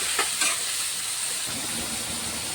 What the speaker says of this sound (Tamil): ஒரு வெங்காயம் தக்காளி தான் போட்டு வதக்கியிருக்கேன்.